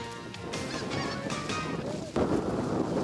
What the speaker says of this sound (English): A lot of snow geese.